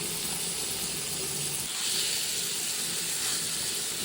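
Chicken fries in hot butter in a pan, giving a steady, loud sizzling hiss that runs on without pause, with no voices over it.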